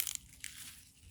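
Crisp baby lettuce leaves are snapped off in a garden bed, giving a faint, close crunching rustle that lasts about a second, with no talking.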